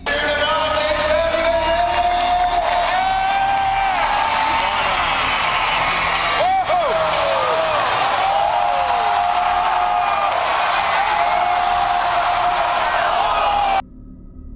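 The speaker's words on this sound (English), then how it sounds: "The crowd erupted" A large outdoor crowd at a ramp stunt event roars and cheers continuously, loud and dense with whoops and yells, before cutting off abruptly at the end.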